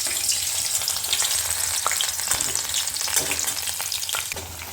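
Chopped vegetables, including onion and potato, frying in a pan for fried rice, giving a steady close hiss and crackle with occasional stirring clicks and no talking.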